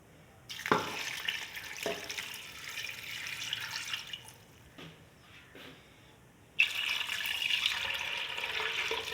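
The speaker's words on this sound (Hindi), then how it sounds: "एक गिलास और पानी डाल दिया मैंने।" Water poured from a glass into a cooking pot while making beef kebab, heard as splashing bursts that stop and restart, fairly faint, with no talk.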